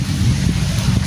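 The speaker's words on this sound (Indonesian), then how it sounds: "Angin ini bukan angin sembarang." Strong wind buffets the microphone in a loud, continuous roar with low rumbling gusts and no speech.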